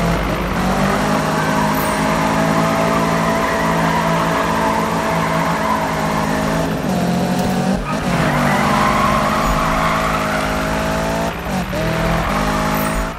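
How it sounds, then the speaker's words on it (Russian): Tires squeal continuously as a car drifts in the 2015 Need For Speed racing game, loud and sustained with an engine roar that rises and falls through long slides, with no talk over it. "Дрифт на грани фантастики у нее."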